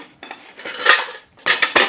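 Lightweight metal camping cookware clatters and clanks up close, a scraping rattle followed by a few quick, louder knocks.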